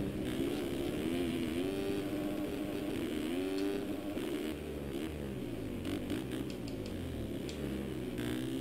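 Motocross bikes, a Honda and a Kawasaki, race in a video game, their engines droning and whining steadily and loudly throughout with shifting pitch as they rev, with no talk over them.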